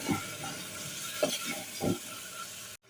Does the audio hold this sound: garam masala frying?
yes